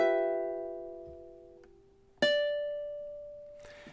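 Ukulele picking out measure 10 of a song, a few plucked notes ringing and slowly decaying, then a fresh strum that sustains on a single clear tone, played alone and close.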